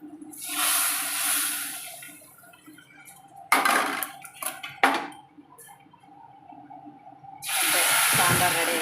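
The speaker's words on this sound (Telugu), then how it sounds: "ఇంక తాలింపు ఇందులో వేసేస్తున్నాను" Hot oil tempering with asafoetida is poured into a pot of sambar, giving a loud hissing sizzle that fades, then a few sharp metal clanks of utensils, and a second strong burst of sizzling at the end.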